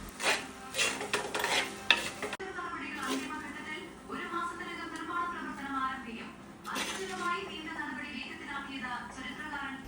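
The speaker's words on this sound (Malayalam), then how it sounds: "കുറച്ച് വെളിച്ചെണ്ണയും ഇച്ചിരി കറിവേപ്പിലയും കൂടിയിട്ടൊന്ന് മിക്സ് ചെയ്തെടുക്കുമ്പോഴത്തേക്കും" Fish peera being mixed with coconut oil and curry leaves in a pan, quick scraping and clinking stir strokes at first, then softer stirring beneath a person talking for most of the clip.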